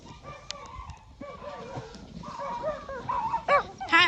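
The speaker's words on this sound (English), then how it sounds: "And Sea Ranger's barking because he can't get in here." A dog barks and whimpers, unable to get into a barn where new goat kids shelter during a snow storm; the brief, uneven barks are mixed with other animal sounds and rise in loudness toward the end.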